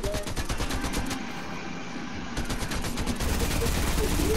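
Rapid automatic fire from P90 submachine guns in a video game shooter, loud dense bursts crackling almost without pause, with a brief thinning in the middle before the barrage resumes.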